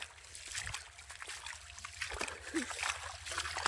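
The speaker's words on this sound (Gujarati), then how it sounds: "ઉપર થોડોક અમથો વરસાદ પડી ગયો છે એના કારણે જો નદીમાં પાણી આવે છે" Steady rushing river water flows close by after upstream rain, a continuous broadband wash with occasional small splashes and gurgles.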